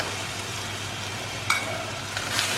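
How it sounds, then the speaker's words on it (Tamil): Ground tomato is stirred into onions frying in a pan for palak paneer, a steady close sizzle running throughout with a brief scrape of the spoon midway. "ஸோ தக்காளி ஆட் பண்ணி நல்லா மிக்ஸ் பண்ணிவிட்டு"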